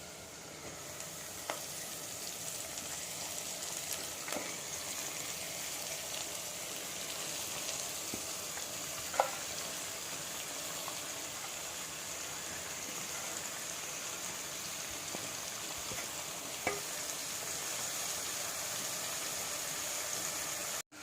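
Spinach and fenugreek leaves fry in a pan with a steady, soft crackling sizzle that runs unbroken throughout, broken only by a few faint ticks.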